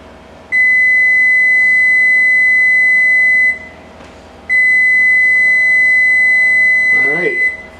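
An oven timer sounds after 23 minutes of baking sealed cannabis, two long, loud, piercing electronic tones a few seconds each with a short gap between, ending as a voice starts talking.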